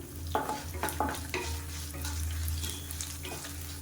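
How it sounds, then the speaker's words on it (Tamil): Garlic, ginger, seven dried red chillies and a sprig of curry leaves frying in hot oil for an egg gravy, a steady close sizzle broken by short scraping stirs and clinks. "பூண்டு அதிகமாகவும் இஞ்சி வந்து கொஞ்சம் கம்மியாகவும் எடுத்துக்கோங்க இது கூடவே ஏழு வரமிளகா சேர்த்துக்கலாம் இது கூடவே ஒரு கொத்து கருவேப்பிலையில் சேர்த்துக்கலாம்"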